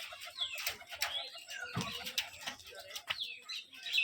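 Rajshahi giribaj pigeons at a loft, with soft cooing and chirps, wing flutters and scattered bird calls, fairly faint and busy, with a little background voice mixed in.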